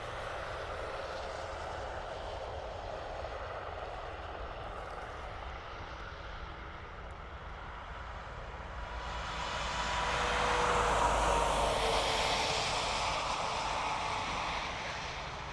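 A jet aircraft at Dublin Airport with a steady, fairly distant engine roar that builds to a louder, brighter rush about two-thirds of the way through and then eases slightly. No talking.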